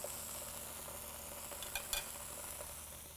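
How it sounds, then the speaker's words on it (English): Two pieces of halloumi fry in a little sunflower oil in a pan, giving a faint, steady sizzle with a couple of soft utensil taps near the end. "I'm going to start by just putting a little bit of sunflower oil onto the pan, and I'm going to do 2 pieces of halloumi."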